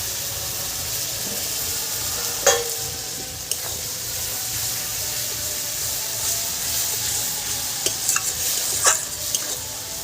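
Spice paste frying in a pan as hot water is added, giving a steady hiss and sizzle with stirring scrapes and a few sharper utensil clinks near the start and end, with no voices.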